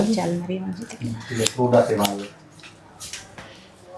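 Scissors snip through hair at a salon during a haircut, with short crisp cuts heard under close conversation and a few louder metallic clicks once the talking pauses.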